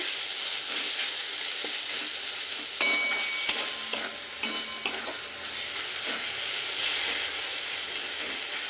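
Onion and poppy seed sautéed in a pan, a continuous soft sizzle broken by scraping stirs and clinks of a spatula against the metal.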